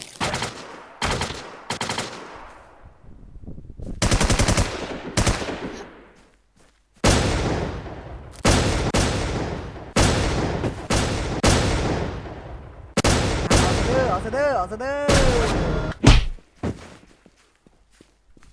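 Gunfire in the online survival shooter WarZ: repeated loud bursts of automatic fire and single shots in irregular clusters, with heavy thuds, short gaps of quiet between volleys and a whistling effect near the end.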